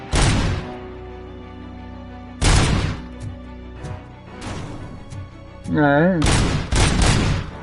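Gunfire in the video game RoboCop: Rogue City, loud bursts of shots in several volleys with short pauses between them, with a brief warbling electronic effect and a voice speaking briefly.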